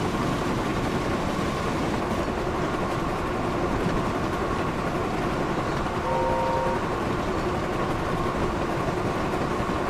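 Train whistle in the Thomas & Friends Wonders of Sodor video game, a steady tone sounding briefly over the continuous loud rumble and clatter of the moving engine.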